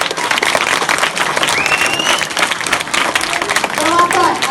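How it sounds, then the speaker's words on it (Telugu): A crowd at a school book distribution event with an MLA present gives loud, continuous applause to welcome guests, and voices and shouts mix in with the clapping. "అందరు కూడా చప్పట్లతో ఆహ్వానించాము"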